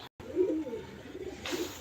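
Male pigeons let out outdoors give a soft, low cooing that swells and fades over a couple of seconds, close by, with a brief break near the start and no talking.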